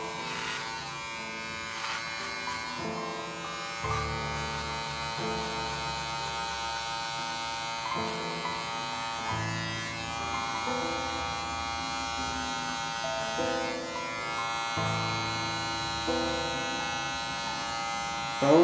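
Electric hair clipper with the zero guard cutting hair during a high fade, a steady close buzz whose pitch shifts slightly as it moves across the head, continuous for the whole stretch.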